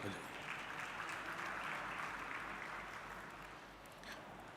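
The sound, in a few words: audience applause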